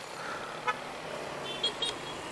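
A few short motorcycle horn toots sound, one brief beep followed by a quick double honk, faint against steady road noise.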